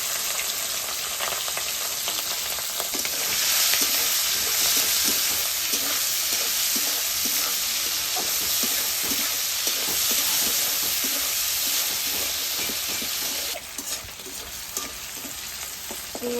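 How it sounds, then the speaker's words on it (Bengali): Shrimp coated in salt and turmeric fry in hot oil in a wok, giving a steady, loud sizzle and crackle that runs continuously throughout, with occasional stirring and no talking. "তেল গরম হয়ে গেছে, এবার চিংড়ি মাছগুলো দিয়ে দেবো।"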